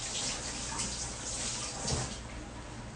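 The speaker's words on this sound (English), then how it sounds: "so let me rinse my hands real quick." Water from a kitchen tap runs steadily into a sink as hands are rinsed, a soft continuous splashing hiss with slight variations over three seconds, fairly quiet, no talking.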